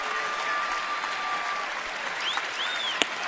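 Crowd at a Cubs at Nationals baseball game clapping steadily for a third out in the seventh inning, a broad even wash of applause with a faint whistle and a sharp clap near the end.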